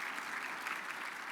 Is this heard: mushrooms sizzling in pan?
no